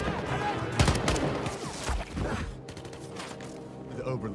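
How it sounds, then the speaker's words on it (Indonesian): Gunfire from German soldiers in a dramatized chase, sharp shots and bursts cracking over a dense, busy soundtrack with heavy low rumble and other noise throughout. "tentara Jerman yang melihat keberadaannya langsung menembakinya"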